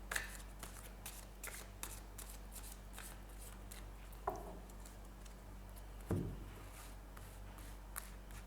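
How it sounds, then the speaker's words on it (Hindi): Playing cards being shuffled close up, a soft, continuous riffle and slide of cards with a few louder flicks, quiet and with no talking. "जब तक मैं कार्ड शफल कर रही हूँ"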